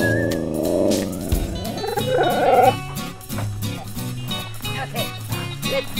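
Huskies in a kennel barking, yipping and whimpering, several dogs close by in an excited chorus, with people talking over them.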